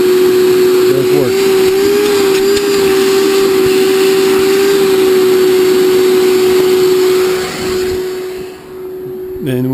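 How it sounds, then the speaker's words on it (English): A small household vacuum cleaner, run off a 1,000-watt inverter, drones loudly and steadily with a strong constant motor whine, then dips briefly near the end. "this is the little vacuum cleaner"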